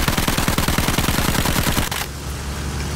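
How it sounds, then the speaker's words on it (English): A mounted machine gun firing in Battlefield 1, a rapid continuous burst of loud rattling shots that cuts off after about two seconds, leaving a dull rumbling tail. "Yeah, the mounted guns."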